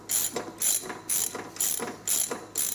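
A ratchet works loose a brake caliper bolt on a Harley-Davidson during a chrome fork replacement, sounding as five or six close, bright bursts of rapid clicking in steady back-and-forth strokes.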